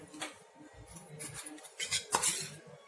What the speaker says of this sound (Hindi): 2 बड़े चम्मच घी डाल दीजिए।